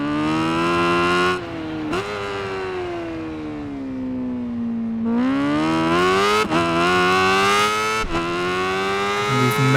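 Modified 1000cc superbike in the Ride 5 racing game, engine screaming loud and close with rising and falling pitch as it shifts through gears around the final corners, alone with no talk.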